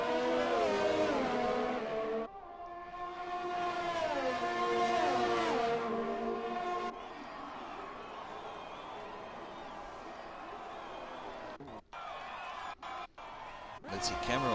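Simulated F1 race car on a flying lap at the Vietnamese Grand Prix in a racing video game, engine whine rising and shifting through gears loud at first, then fading under steady commentary talk with brief cutouts near the end.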